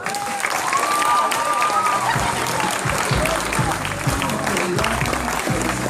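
Audience applause at a hypnosis show, sustained clapping from the crowd with a voice speaking over it at the start.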